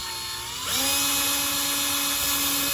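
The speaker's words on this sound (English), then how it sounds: "and drill down." A power drill with a 1/16 bit spins up and bores into a Zenith Y960 stereo console cabinet, a steady high whine close by that starts after a brief quiet moment and runs on alone.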